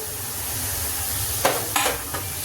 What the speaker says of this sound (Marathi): आणि हे कंटिन्यू असं मिक्स करत राहू